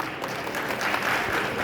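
An audience at a Valmiki festival event in Kanpur applauding, a steady wash of many hands clapping together, sustained and fairly loud with no clear voices.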